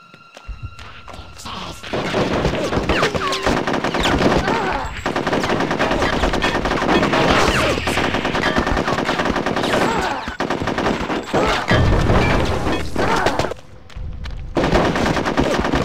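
Sustained automatic gunfire from the N64 game Conker's Bad Fur Day, a loud, dense stream of machine-gun bursts with thuds, running almost continuously for about fifteen seconds with brief pauses between volleys.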